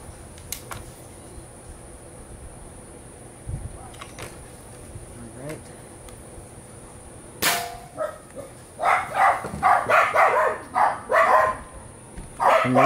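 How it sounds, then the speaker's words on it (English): Several neighborhood dogs barking outdoors in a yard: after a quiet stretch comes a sharp crack, then a run of repeated, fairly loud barks in quick bursts at middle distance. "They'll sit out here for 4 or 5 hours barking, and they will not shut up."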